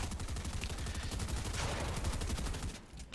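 Rapid gunfire in Fortnite during a duos match, a dense stream of repeated shots rattling loudly and continuously before tapering off near the end.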